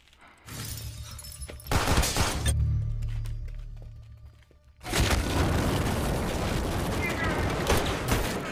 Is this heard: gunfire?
yes